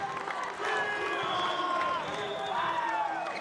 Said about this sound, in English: another chant there from Manurewa